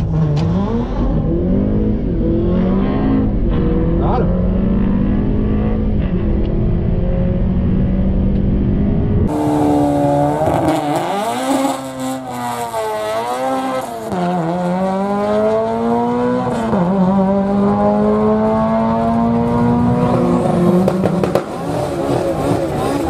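2020 Honda Accord Sport 2.0T drag racing a 1997 Civic with a K20 engine swap, loud engines revving hard through rising and falling gear pulls, with a brief quieter shift midway.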